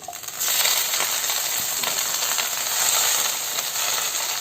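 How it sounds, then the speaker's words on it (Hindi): Amaranth (thariya) greens drop into hot oil with fried onions in a pan, setting off a loud, steady sizzle that holds for several seconds with faint stirring scrapes and no talking. "प्याज भुजा गेल छे, तइमे हम राख देबे साग।"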